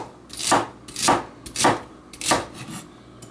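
A knife slicing celery stalks into quarter to half inch pieces on a cutting board, a close series of crisp crunching cuts in an even rhythm, each ending in a light board thud.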